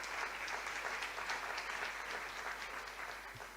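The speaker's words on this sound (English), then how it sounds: "give a round of applause to the debaters" A debate competition audience applauds steadily, a dense wash of clapping hands that holds at an even level throughout with no voices standing out.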